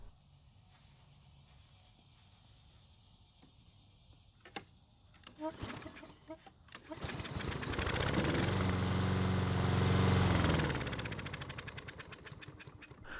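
A Husqvarna lawn mower with a fuel problem, primed through the carburetor throat, starts after a few pulls and clicks, then its small engine roars loudly for several seconds before dying down.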